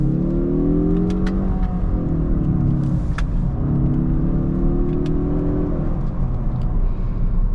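A 2022 Mazda3 2.5T with a turbocharged 227-horsepower engine drives at low speed from inside the cabin, a steady engine drone rising and falling as it revs, with light ticks and clicks over the continuous rumble.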